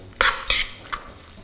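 A low-carb vegetarian burger mixture is worked together with breadcrumbs in a bowl, giving three short clinking, scraping bursts close by, the first two strong and the last softer, with a quiet pause between.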